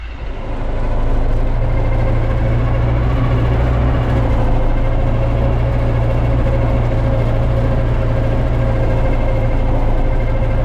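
YuMZ tractor fitted with an MTZ engine running steadily during heavy ploughing, heard from inside the cab as a loud, constant low engine drone with vibration and no talk.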